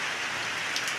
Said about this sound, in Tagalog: Napaka-ulan po ngayong araw na ito